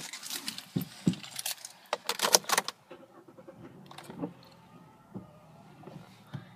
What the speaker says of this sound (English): For now, start this lovely vehicle up.